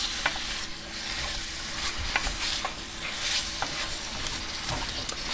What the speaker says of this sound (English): Put my peppers in there. And give it a good stir.